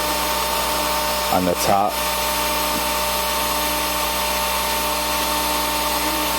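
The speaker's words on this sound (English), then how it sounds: "Let the drill do the spinning, all the work." A power drill spins steadily to buff a metal vape tube mod, a continuous whirring hum with a short louder burst near the start as pressure is applied, and a voice speaking briefly over it.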